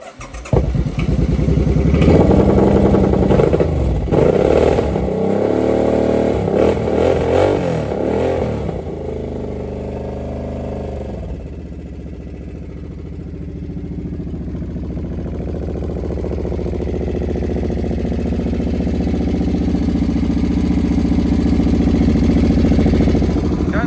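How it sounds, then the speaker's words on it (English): A 2005 Suzuki Boulevard motorcycle engine cranks and fires with loud clattering revs, then settles into a steady, rumbling, noisy idle up close. "So we're gonna fire it up, see if it works."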